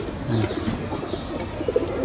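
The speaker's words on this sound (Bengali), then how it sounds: "এই যে একটা ইন্ডিয়ান কবুতর" An Indian pigeon of the white chuina type gives short low cooing notes close by, with a sharp noise at the very end.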